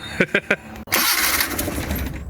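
An abandoned Bedford Rascal van cranks three short times, then its engine catches and runs in a rough, steady idle after sitting unused for six years.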